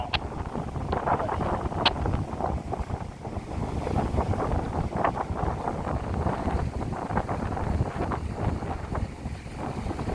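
Strong wind buffets the microphone in a constant rough roar at a harbour at night with a boat moored, with no talk over it.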